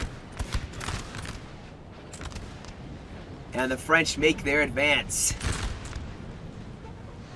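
Rolling musket volleys and dull cannon booms from a Napoleonic battle in the video game Napoleon: Total War, a continuous distant crackle of gunfire beneath someone narrating.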